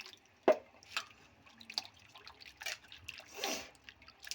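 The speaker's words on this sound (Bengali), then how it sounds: "এদিকে আলুও ধুয়ে লইলাম" Potatoes are washed in water for a soybean curry, giving soft splashes, drips and sloshing in irregular bursts, fairly faint and close, with no talking.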